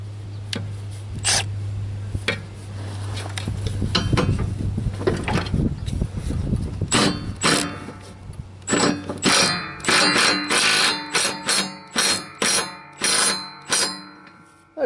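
A Milwaukee 12-volt 3/8-inch stubby impact wrench tightens mower blades. After some clattering handling, a run of loud, evenly spaced hammering bursts repeats close by.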